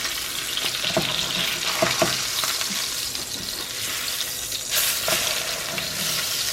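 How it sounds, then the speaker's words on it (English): Salmon fries in a pan with continuous loud sizzling, broken by a few clattering knocks and scrapes as the fillet is flipped, with no voices. "go ahead and flip your salmon. Make sure to try to keep it in one piece."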